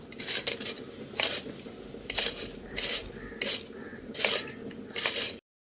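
Raw potatoes are grated into long strips on a hand grater, a series of bright rasping bursts about one per second, close and fairly loud, with no talk.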